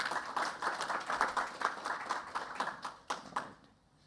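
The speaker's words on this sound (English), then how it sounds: "So let's have a big round of applause for all of them." A small workshop audience at a security and privacy networking conference claps for the organizers, a sparse patter of individual hand claps that thins out and stops near the end, with no talk over it.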